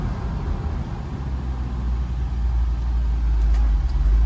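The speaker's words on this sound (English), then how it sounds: "Let's give you all a little bit of a brake test." A 1965 Ford Mustang's engine rumbles low and steady during a brake test, growing slightly louder as the car slows, with a faint high squeak near the end.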